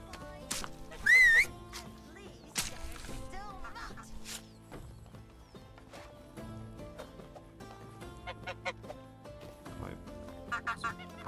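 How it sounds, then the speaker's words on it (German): In the game Medieval Dynasty, a short rising-and-falling whistle calls a donkey amid busy game sounds of clopping hooves, grunts, and scattered chimes, with background music throughout. "Habe ich nicht gerade nach meinem Esel gepfiffen?"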